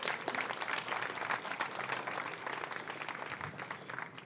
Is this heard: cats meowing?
no